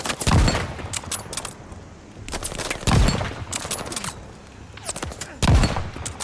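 Call of Duty Vanguard gunfire, with loud bursts of rapid shots and booms recurring about every two and a half seconds across the clip, close and dense with no voices over it.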